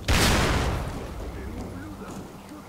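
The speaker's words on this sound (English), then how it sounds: "Grenade." A grenade explodes in the video game STALKER: Call of Pripyat with a loud, close boom right at the start, followed by a long rumbling decay that fades over the next two seconds.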